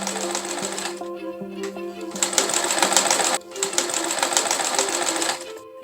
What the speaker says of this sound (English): Next, we'll fold, iron, and sew the new tie and edge of each side.